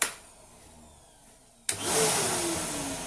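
Tough Master wet and dry cyclonic shop vacuum switching on, a sudden loud motor whine that jumps in after a quiet stretch and rises as it spins up, steady and close, with no speech.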